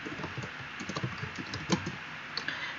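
A name typed on a computer keyboard, giving a run of light, uneven keystrokes, close and moderately quiet, with no voice.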